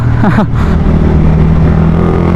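A Suzuki Raider 150 Fi motorcycle engine drones loudly and steadily while riding, with a brief voice heard early over the continuous hum and road noise.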